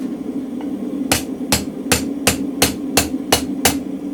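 Eight sharp, evenly spaced hammer blows on a mild steel spring fuller resting on an anvil, ringing out loud and close over a low steady background hum.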